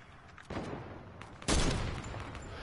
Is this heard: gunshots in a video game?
yes